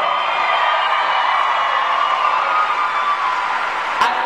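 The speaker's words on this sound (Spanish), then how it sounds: "Vamos a darles un fuerte aplauso," Audience at a fan convention panel with Tom Holland and Jake Gyllenhaal keeps up a steady wash of applause and cheering, with a brief sharp clap or bump near the end.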